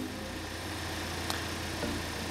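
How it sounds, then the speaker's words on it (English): A car engine idles while warming up toward operating temperature, a steady low hum and rumble holding at an even level, with one brief faint click partway through. "Letting her warm up a little bit, making sure we get the engine up to operating temperature."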